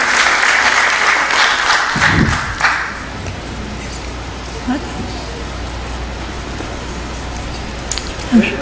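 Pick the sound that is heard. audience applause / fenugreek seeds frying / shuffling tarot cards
audience applause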